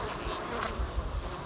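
Honeybees in a hive under an insulated crown feeder board during winter feeding give off a lively, continuous buzzing hum, close and steady, with no voices.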